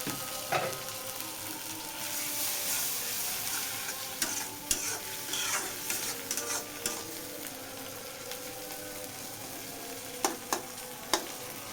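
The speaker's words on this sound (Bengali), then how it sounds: "তো এখন আমরা টমেটো দিব।" Tomatoes being stirred into a hot pan for pasta: continuous loud sizzling and frying with repeated spoon scrapes and clinks against the pan, steady throughout with no voices.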